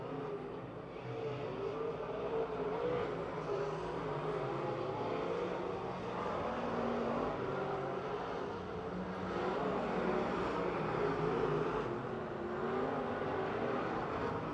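Race cars running the final lap of a speedway heat race at Pennsylvania Motor Speedway, a continuous dense roar of several engines heard from a distance, steady and unbroken throughout.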